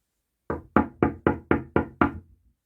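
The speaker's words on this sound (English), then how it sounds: "when Mr. Busy knocked at his door, Mr. Slow was fast asleep in bed." Knuckles knock on a door seven times in a steady, even rhythm. The raps are crisp, close and clear, with nothing else heard.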